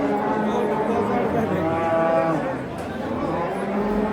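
A sturdy Simmental cow moos at a livestock market, a low, drawn-out call mixed with nearby crowd chatter and a voice talking over it.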